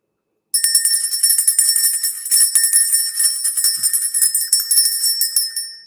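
A bright, high-pitched bell rings continuously after a moment of silence, a rapid, steady metallic trill lasting several seconds with no voices over it.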